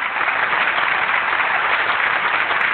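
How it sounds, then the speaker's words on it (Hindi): An audience claps steadily, a dense, even wash of applause that holds at a constant loud level without pause. "एक दफा फिर तालियां बजाइए।"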